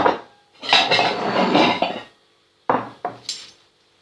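Ceramic dishes and plates clatter and clink in a kitchen while serving ware is set out for a holiday table with fish aspic, a long run of clattering followed by a few sharp separate knocks, fairly close and clear.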